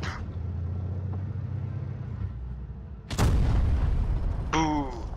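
A tank cannon fires in World of Tanks Blitz from a 53TP tank: a single loud, sudden boom cuts through a steady engine rumble, followed shortly by a brief whining, rattling tail.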